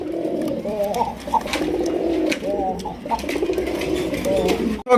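Arabian pigeons coo at close range in repeated low, wavering phrases, several overlapping calls with brief breaks and background chatter of other birds.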